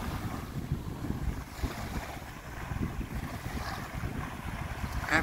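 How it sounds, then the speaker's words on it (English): Steady wind on a sunny morning beside Lake Victoria, buffeting the microphone with a continuous low rumble and a faint hiss for the whole stretch, with no voices. "Sunshine, a bit windy."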